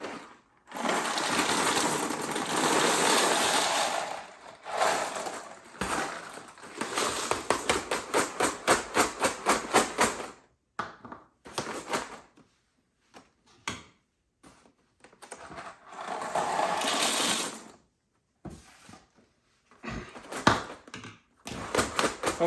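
Dried celentani pasta pours from its box into a storage container, a loud dry rattling rush of hard pieces in several bursts with clattering taps and brief pauses between pours.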